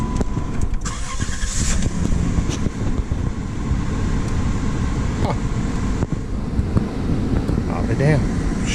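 A 1993 Plymouth Grand Voyager with a 3.3 V6 and 118,000 miles starting and then idling, a steady close engine rumble under cabin noise, with someone talking over it.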